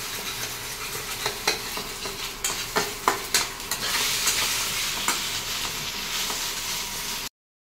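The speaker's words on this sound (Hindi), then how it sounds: "ये रोस्ट कर लिया है प्याज और सोया चाप। इधर उसी कढ़ाई में थोड़ा सा ऑयल डाल दिया है।" Onions and soya chaap roasting in oil in a kadhai, stirred with a spatula: a steady sizzle and frying hiss under repeated scraping strokes against the pan, close and moderately loud, with no talking.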